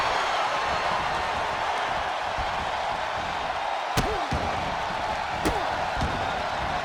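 In the WWE 2K26 wrestling video game, a wrestler stomps and slams an opponent over a constant roaring arena crowd, with two sharp, loud impacts standing out a second or so apart.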